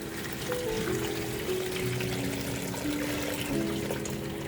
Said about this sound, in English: So I'll add some hot water.